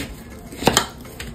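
Ghee is stirred into a mixture in a metal pan, giving two quick close clinks of a spoon against the pan over a soft scraping background, then a lighter tap.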